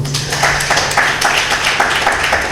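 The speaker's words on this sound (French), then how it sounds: "S'il vous plaît, sur vos applaudissements." Audience applause at a media forum on democracy, a steady dense wash of clapping from a hall crowd, moderately loud throughout with a low hum underneath.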